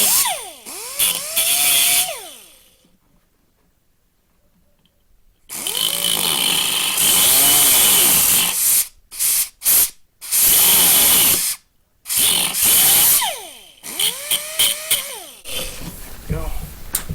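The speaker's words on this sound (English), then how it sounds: "I'm just using a cutoff wheel to cut off the excess" An abrasive cutoff wheel trims excess metal near a vehicle's wheel well during an off-road rock light install, heard close and loud as several harsh, hissing cutting bursts that start and stop, with a voice talking briefly between them.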